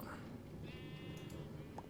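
A faint tonal sheep bleat from Minecraft sounds briefly in the middle over a low murmur of background noise, quiet and short.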